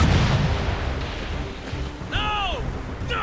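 A warship's cannon booms heavily in Assassin's Creed Rogue, a deep blast that rumbles and fades, followed by shouting voices over the game's noise.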